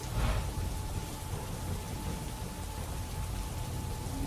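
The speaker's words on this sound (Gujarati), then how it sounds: "અંકલેશ્વર જીઆઈડીસીના વિવિધ વિસ્તારોમાં વરસાદ વરસ્યો." Steady rain falling over the industrial GIDC areas of Ankleshwar, Gujarat, a dense continuous hiss of drops that stays loud and even throughout, with no voices.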